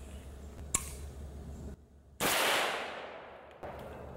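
Single sharp rifle shot from a Zastava M90, preceded by a small click and followed by a loud blast that decays slowly over a couple of seconds, then a faint metallic clink.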